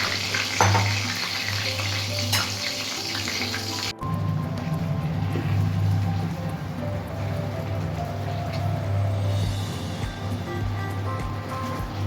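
Marinated lemon chicken mixture fries in a hot pan with a steady, close, full sizzle that shifts abruptly about a third of the way through and then hisses evenly to the end, with no talk.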